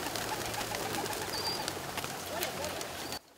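Feral pigeons cooing on a busy city street, their soft repeated coos blending into a steady wash of outdoor traffic noise that cuts off abruptly at the end.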